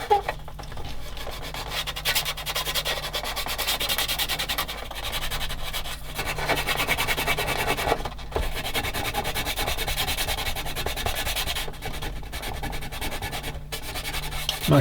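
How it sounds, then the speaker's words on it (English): A rough sanding stick rubs steadily against a part of a 1/16 scale Takom M10 IIC Achilles tank destroyer model, producing a continuous close scratchy rasp with brief pauses between strokes. "I'm going to get a rough sanding stick and then basically smooth it afterwards"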